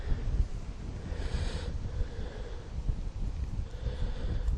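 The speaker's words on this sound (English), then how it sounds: "it's a nice windy day" Gusty wind blows across an outdoor horse-riding area, buffeting the microphone with low rumbling swells that rise and fall throughout, with no speech.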